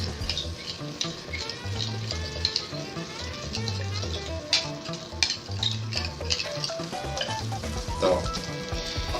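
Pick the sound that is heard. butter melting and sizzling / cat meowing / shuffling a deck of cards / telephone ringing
butter melting and sizzling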